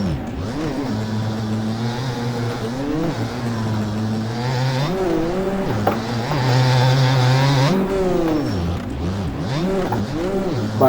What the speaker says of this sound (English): sound of a two-stroke and how the power hits